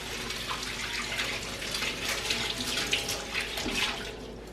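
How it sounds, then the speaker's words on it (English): Running tap water splashing over a peeled onion held under the faucet at a sink, a steady close rush of water with slight shifts as the onion is turned. "Okay, so I peeled my onion. I'm just going to rinse that off."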